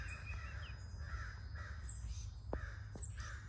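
A crow caws nearby outdoors, several harsh repeated calls spaced through the clip over a low steady background rumble, with no talking.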